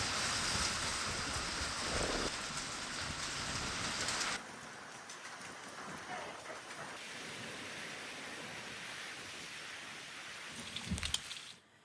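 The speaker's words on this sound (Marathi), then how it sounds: "वादळी वाऱ्यासह विजांच्या कडकडाटाच्या अवकाळी पावसाने झोडपलाय" Heavy unseasonal rain in a thunderstorm with strong wind and lightning pours down in a dense, steady hiss that drops a little in loudness partway through, with a faint rumble now and then.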